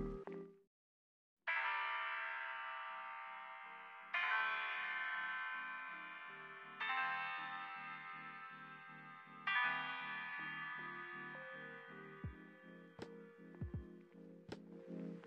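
A lo-fi hip-hop chord progression with reverb, EQ trimming the highs and lows, and a high-pass filter for a retro feel: four soft sustained chords, each decaying, then a few faint percussive clicks at the end.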